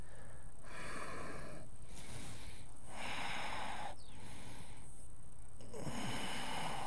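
Deep breathing during a strong vinyasa yoga balance pose: alternating long inhales and exhales, about five breaths, close and fairly loud, with airy, slightly wheezy rasps and no talk.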